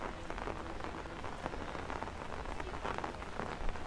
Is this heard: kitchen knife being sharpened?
no